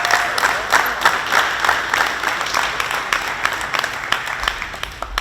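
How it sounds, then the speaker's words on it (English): Audience applause at a gym event honoring volunteers, a steady wash of many hands clapping at moderate loudness that continues through the whole stretch and thins slightly toward the end. "Please give George Hodge and Brian Shivers a round of applause."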